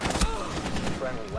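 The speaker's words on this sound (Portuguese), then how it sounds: "Um tiro tu mata, Gabi" Gunfire in a shooter video game, with rapid bursts of shots rattling through the mix while voices talk over them throughout.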